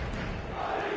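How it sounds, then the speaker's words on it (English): Stadium crowd in the eFootball 2026 football game roaring, a dense loud sustained wash of cheering that swells slightly toward the end. "the crowd level has gone up a notch or 10"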